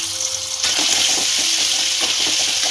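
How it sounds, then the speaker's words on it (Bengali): Garlic paste frying in a little refined oil for butter garlic prawns gives a close, steady sizzle that swells suddenly partway through, with soft stirring scrapes. "এই যে তেলটুকুর মধ্যে না একটু আগে অল্প আমার চিংড়ি অনুযায়ী আমি এই যে এইটুকুনি দিয়ে দিলাম, রসুন বাটাটা দিয়ে দিলাম।"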